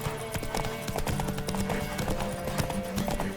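Galloping horse hooves in The Witcher 3, a fast steady clip-clop rhythm that stays close and loud throughout, with faint background game sounds.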